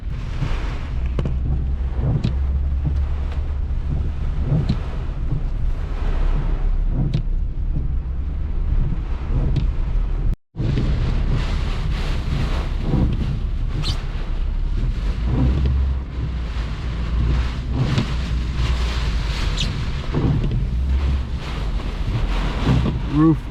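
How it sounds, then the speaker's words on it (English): Hurricane Milton's gusts of up to 80 miles an hour roar across a microphone outdoors, surging and buffeting in heavy, uneven bursts, with a brief dropout midway and occasional voices. "I guarantee you we were just having 80-mile-an-hour gust."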